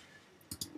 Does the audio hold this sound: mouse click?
yes